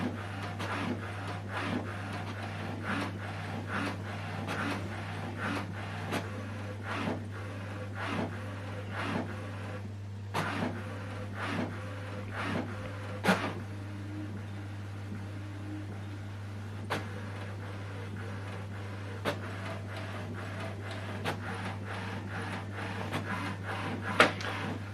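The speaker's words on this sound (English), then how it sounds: "What it's doing right now is printing the alignment head" An HP DeskJet 4120e inkjet printer prints an alignment page with a constant low hum, its print head clicking and shuttling back and forth in repeated, regular bursts.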